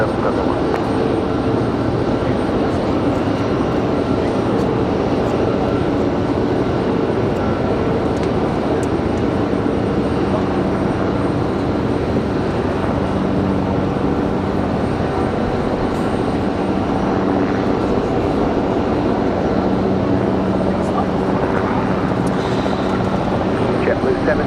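An airliner takes off from Raleigh-Durham International Airport, a continuous loud engine roar that holds steady throughout, with voices intermittently audible beneath it.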